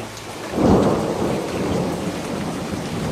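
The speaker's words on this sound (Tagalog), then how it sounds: "sakto naman ang pag-ambon hanggang sa unti-unti nang bumabagsak ang ulan" Rain falls steadily while a low rumble of thunder swells in the first second and slowly fades, leaving a continuous soft patter with no voices.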